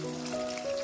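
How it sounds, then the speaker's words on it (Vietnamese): Betel leaf rolls frying in boiling oil give a soft, steady sizzle with a faint tonal hum behind it, quiet and short. "Trong dầu sôi như thế này thì sẽ rất là nhanh chín"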